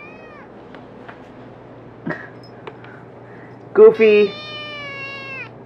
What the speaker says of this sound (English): Why do you meow so much?